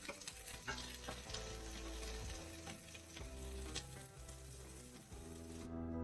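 Small onions and curry leaves frying in a pan for a vegetable dish, a steady, dense sizzle close by with occasional stirring scrapes, continuous and fairly loud with no talk.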